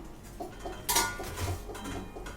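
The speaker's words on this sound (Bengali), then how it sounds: "এবার আমি ঢাকনাটা খুলে দেখবো" A metal lid lifts off a cooking pot of boiling chickpeas and taro greens with one short, quiet clank amid faint kitchen clatter.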